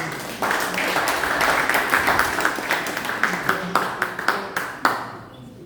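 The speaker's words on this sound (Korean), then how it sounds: "큰 박수로 환영해 주시기 바랍니다" A crowd applauds steadily at an indoor forum, welcoming a speaker: dense clapping that swells in and carries on for several seconds with a few sharper individual claps standing out near the end.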